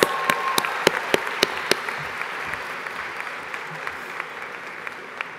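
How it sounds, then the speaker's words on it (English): Audience applause at a university commencement ceremony, a steady wash of clapping with sharp individual claps standing out near the start, fading gradually over several seconds. "Let's give them applause."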